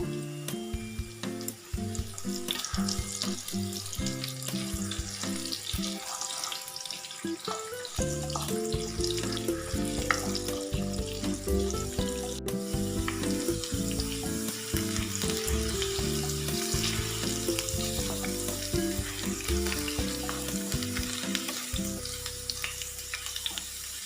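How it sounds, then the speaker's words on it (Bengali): Potato pieces sizzle steadily in hot oil with a little salt, a loud, even frying hiss lasting throughout, with tuneful background music running underneath. "এবার প্রথমে আলুগুলো সব ভেজে নেব। সামান্য একটু নুন দিয়ে কড়া করে ভেজে নেব।"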